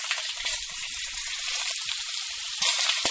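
Fried peas and capsicum tumble into a pan for a paneer dish, setting off a steady close sizzle with scattered soft knocks, rising slightly louder near the end.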